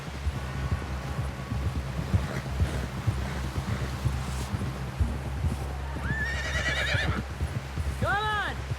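A horse in Red Dead Redemption 2 clip-clops steadily at a gallop, then neighs twice near the end, under a low rumbling background.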